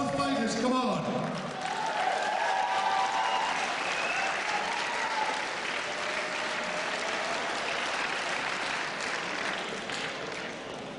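A fight-night crowd at a FIGHT UK event applauds both fighters after a bout, sustained loud clapping and cheering lasting several seconds, with a voice sounding faintly through it.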